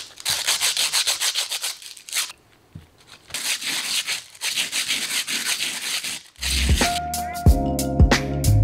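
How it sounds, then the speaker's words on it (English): Rapid back-and-forth sanding strokes rasp steadily in bursts, close by, lightly smoothing cement orbs, followed by a louder jumble of scraping and clatter. "I'm going to do some light sanding to get them nice and smooth"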